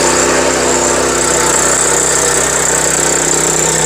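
A small rotavator tiller machine at a Ludhiana farmers' fair, a loud, steady engine drone with constant vibration, close and unbroken with no talking.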